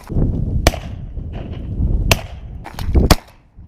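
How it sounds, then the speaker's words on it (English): Shotgun blasts while duck hunting divers in a snowstorm, several sharp reports spaced irregularly, including a quick pair near the end, over wind noise outdoors. "Shoot him, shoot him, shoot him."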